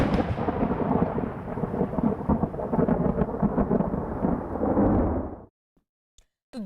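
Heavy monsoon rain and rolling thunder in Delhi during waterlogging, a loud, dense roar with low rumbles that holds steady for about five seconds, then cuts off abruptly into near silence with a couple of faint ticks.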